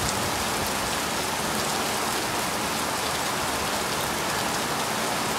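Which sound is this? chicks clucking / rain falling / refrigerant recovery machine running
rain falling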